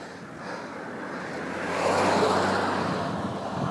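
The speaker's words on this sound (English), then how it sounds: "I hear a car" A single car passing on a road heard from a bicycle, a low rumble that swells to a peak midway and then eases off, at moderate distance with no talk.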